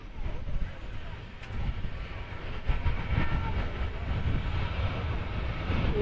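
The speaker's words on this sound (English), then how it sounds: "The Pegasus is rotating there, and it's going to Istanbul." A Pegasus airliner taking off from Manchester Airport for Istanbul gives a steady, broad jet-engine roar that holds throughout, with faint muffled talk nearby.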